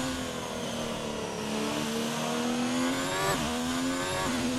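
Haas Formula 1 car in the F1 2019 racing game accelerating at the Australian Grand Prix in Melbourne, a steady high-pitched engine whine climbing through the gears with brief dips at shifts, loud and continuous with no talk over it.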